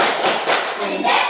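A group performs Tepuk Sakeus, a rhythmic clap chant, in a Christian religious lesson: a few loud, close hand claps land in a quick, even pattern.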